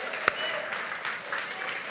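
A church congregation claps together during a sermon, a dense steady burst of many hands at moderate loudness, with a sharp single clap near the start and a voice faintly heard under the applause.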